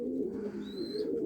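A pair of Gușat Horseman pigeons, a male and a female, give a soft, low, rolling coo close by, with a faint higher chirp partway through.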